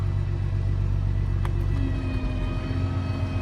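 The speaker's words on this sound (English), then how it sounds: "Flip my PTO, turn my PTO on, take it out of gear." A Peterbilt 359 dump truck idles with its PTO engaged: a steady, loud, low diesel drone with a constant hum and a faint whine running underneath, and no voices.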